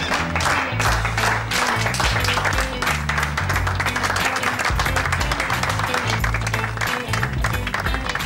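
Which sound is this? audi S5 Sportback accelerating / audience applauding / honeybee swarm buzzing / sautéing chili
audience applauding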